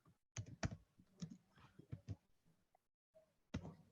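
Code being typed on a computer keyboard in a classroom lesson, irregular bursts of close key taps separated by brief pauses and silent gaps.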